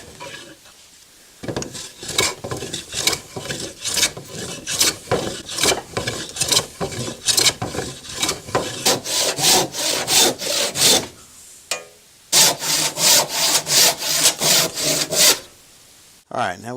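Hand plane shaving old weathered wood in repeated long strokes, each a close, loud rasping swish with brief pauses between passes and a short break near the end, no talking.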